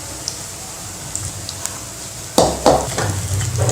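Pakoda fritters frying in hot oil, a soft steady sizzle with faint clinks, then louder stirring and scraping in the pan near the end, with no voices.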